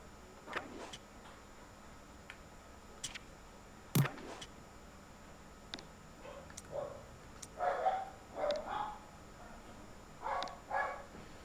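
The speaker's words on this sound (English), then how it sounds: "the dog is making lots of noise here" A dog barks in scattered, fairly faint bursts, with a sharp yelp near the middle and a cluster of quicker barks toward the end, set against a quiet room background.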